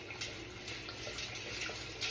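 Bike chain sloshing around in a hot water bath during re-waxing, a steady close watery swishing and trickling that runs without pause for about two seconds with no talking.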